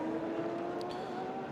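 A race car in the Asian Le Mans Series 4 Hours of Abu Dhabi, car number 25, drones past at steady pitch, a continuous engine note held at moderate distance for a brief stretch with no talk.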